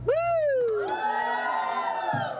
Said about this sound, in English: You hear the cheer.